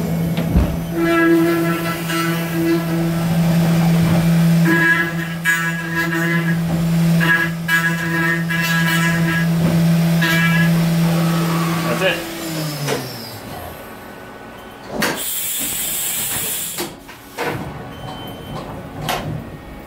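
A CNC milling machine roughs a Shocker SFT/NXT paintball marker part, a loud steady spindle whine with layered tones that winds down partway through, followed by bursts of hissing air and clanks, with some talking.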